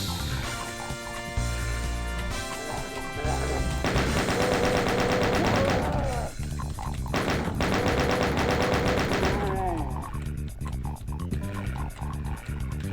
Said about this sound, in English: now to deal with the chain gunners